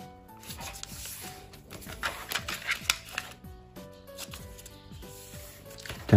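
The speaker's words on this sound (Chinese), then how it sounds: "两个角往里折" Small square origami paper, 5 cm on a side, being folded into a Jun Maekawa dog, giving crisp rustles, creases and light taps in an irregular rhythm over steady background music.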